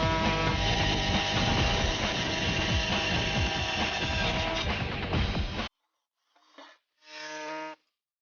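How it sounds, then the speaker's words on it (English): A drill bores a pilot hole into metal on a '64 Comet drag car project, a loud, steady whir running several seconds before cutting off, followed by two short bursts from an air saw. "I'll start by drilling a pilot hole, then finish the job with an air saw"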